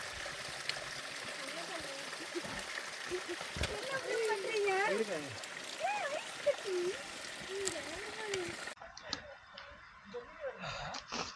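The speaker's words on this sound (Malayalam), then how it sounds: "നമുക്കിങ്ങനെ വെള്ളം ഒലിച്ച് മേലെ നിന്ന് ഒലിച്ചിറങ്ങി വരുന്നത് കാണാൻ പറ്റും" Cold mountain stream water trickles and splashes down from above on a Himalayan trek in Uttarakhand, a steady close rush of water under a voice that speaks throughout, then it cuts off abruptly near the end.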